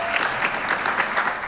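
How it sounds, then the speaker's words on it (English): Steady applause from an audience at a school board meeting fills a short stretch, a dense, even patter of clapping hands with no pauses. "we gave her a round of applause"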